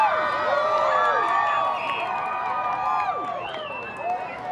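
A crowd in Erie, Pennsylvania reacts during the 2024 total solar eclipse with distant cheering, whoops and scattered clapping, rising and falling voices spread across an open outdoor space.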